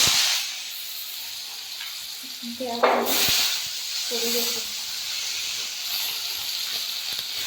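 Hot oil hisses steadily in a pan before potatoes are fried, with a couple of brief voice-like sounds and a clatter partway through.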